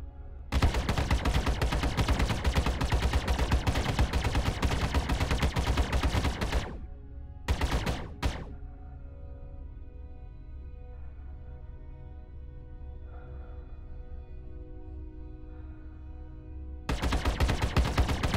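A Hornet ship in the space game Star Citizen fires all four weapons in a long, loud, rapid burst of gunfire. Two short bursts follow after a pause, over a low hum, and the firing resumes near the end.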